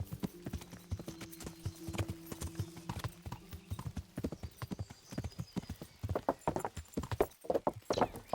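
Horse hooves clip-clop in a steady close rhythm in the medieval video game Kingdom Come Deliverance, growing busier and louder toward the end with a brief whinny mixed in.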